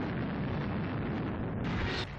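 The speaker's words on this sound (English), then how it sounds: "Fiery explosions ripped through the battlefield as T-34s were blown apart" Fiery explosions tear apart Soviet T-34 tanks on a battlefield, a dense, continuous roaring blast with a sharper burst near the end, loud and without speech.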